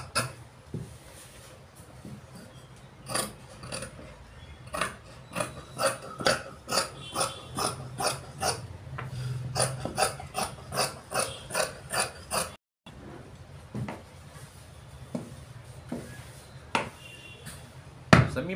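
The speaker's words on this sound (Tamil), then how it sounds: "பேட்டனை மாற்றி வச்சு இப்போ நான் வரைஞ்சி வெட்டிக்கிட்டு இருக்கேன்." Scissors cutting through churidar pant fabric on a tailoring table, a long series of sharp, rhythmic snips, close and clear, broken by one short pause before more cuts.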